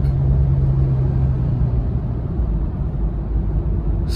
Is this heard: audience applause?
no